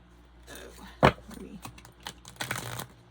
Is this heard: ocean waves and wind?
no